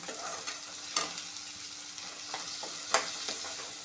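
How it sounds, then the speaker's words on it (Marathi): Onions sizzle and fry in hot tempering oil while a spoon stirs the pan now and then, with a couple of sharper scraping clacks. "कांदा आपण पहिले फोडणीला टाकून घेऊ कांदा त्याची परतून घेऊया"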